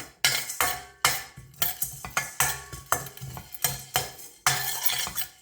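Cumin and pepper are dry-roasted in a pan, with about a dozen quick, rhythmic scraping strokes of a spatula against the metal, close and clear with no talk.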